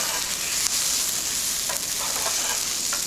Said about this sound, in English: We'll just give that a bit more of a stir just to try and help release those little lovely aromats out of there.